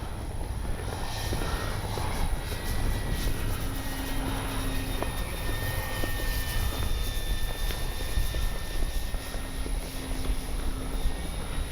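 An RC F4U Corsair warbird model plane flies overhead, its engine a continuous droning whine that holds steady at moderate distance for the whole stretch, with no voices heard.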